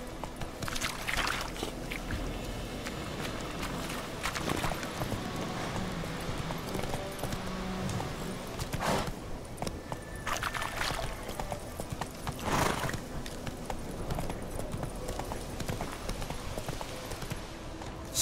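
A horse gallops in Witcher 3, its hooves clip-clopping in a steady rhythm for the whole stretch, fairly close, with occasional louder thumps and no clear talk over it.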